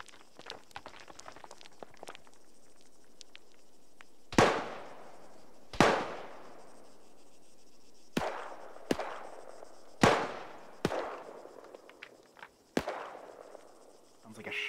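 Gunfire like a shotgun in Arma 3 squad training: about eight sharp, loud blasts at irregular intervals, each trailing off in a short echoing decay. Faint footsteps and quiet shuffling fill the gaps between shots.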